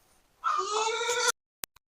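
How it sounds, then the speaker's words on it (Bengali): One short, bright bleat from a newborn goat kid close by, followed by silence and a couple of faint clicks. "কিরকম ডাকতেছে ছাগলের বাচ্চা ডাকে"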